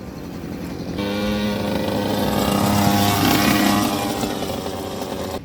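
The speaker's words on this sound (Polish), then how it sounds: "Młodzież jeździ tu na motorowerach i różnych takich wydumkach." Small two-stroke mopeds ridden by young people at a classic car meet, a buzzing engine note that swells in after a quiet second and holds steady, with revving pitch changes, fairly close and loud.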